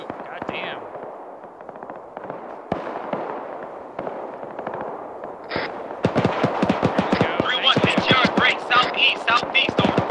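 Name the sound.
gunfire in video game ArmA 3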